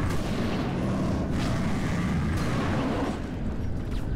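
Continuous loud gunfire in Halo Reach, a dense unbroken barrage with booming low-end thuds and a few sharper cracks standing out, close and overwhelming throughout.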